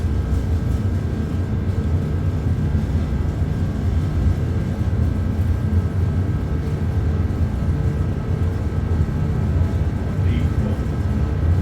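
Airbus A330 engines at takeoff thrust in Flight Simulator 2024, a steady heavy low roar with a hum held constant throughout, no speech over it.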